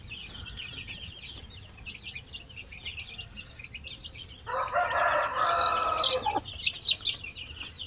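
Shamo Aseel chickens cluck and chatter softly at a distance, then a Shamo Aseel rooster crows loudly partway through, over a low background rumble.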